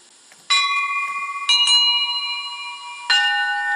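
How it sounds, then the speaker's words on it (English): A bell rings out three times in clear metallic strikes, each leaving a sustained ringing tone that slowly decays before the next hit, with no voices. "Then Carl rang the bell."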